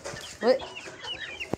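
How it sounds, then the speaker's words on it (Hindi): Backyard hens let out of their coop cluck close by in short, bursty calls, with a person murmuring briefly in between. "ये देखें हमारी सारी मुर्गियाँ आ गई हैं बाहर।"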